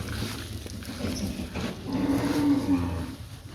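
A cow on a cattle farm in Ghana lets out a low, drawn-out moo over steady outdoor background noise, fairly close by.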